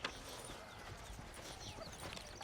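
Horse hooves clip-clop steadily in the Red Dead Redemption video game, a continuous close rhythm of hoofbeats mixed with rolling ambient noise.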